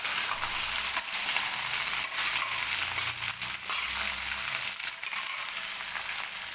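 Cut okra tipped into hot oil with golden-fried garlic and green chillies, giving a continuous, close sizzle and crackle that rises and falls in waves.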